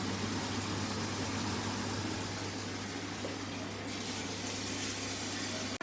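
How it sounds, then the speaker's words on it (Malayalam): A glass of water is poured into chicken cooking in a pan, giving a steady, even rush of liquid over a low constant hum that lasts throughout and cuts off abruptly at the end, with no talking. "നമ്മൾ ഒരു ഗ്ലാസും വെള്ളം ഒഴിക്കാൻ പോവാണ്"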